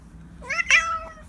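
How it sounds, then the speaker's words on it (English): A small cat meows once up close, a short rising-then-falling cry with a brief lead-in chirp, indoors with quiet background. "This cat just came to me."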